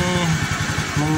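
A Honda Beat fuel-injected scooter, one that keeps stalling, idles just after starting, its small engine putting out a steady, close, even putter.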